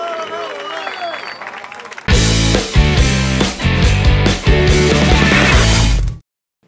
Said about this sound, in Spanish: Y este aplauso para el chelo de la Zimbabue. Y que se oiga más fuerte.